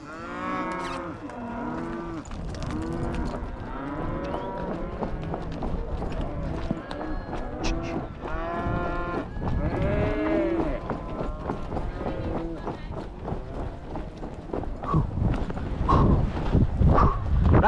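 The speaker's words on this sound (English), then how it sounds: "Hey, cattle." Cattle moo repeatedly in long, drawn-out calls on a trail, with a rider on a cow pony nearby and people calling out over the herd.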